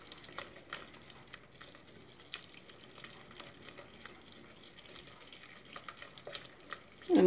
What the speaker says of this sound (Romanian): Acum să punem puțin câte puțin lapte.